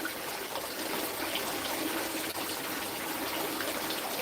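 Water trickles into a backyard pond on a sunny day, a soft continuous splashing and dribbling that stays even and fairly quiet throughout, with no talk.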